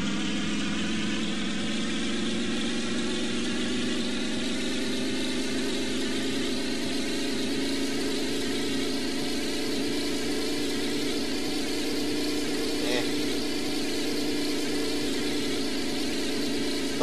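A home-built engine contraption in Garry's Mod runs with a steady, droning mechanical hum that holds an even pitch and level for the whole stretch, with no talking over it.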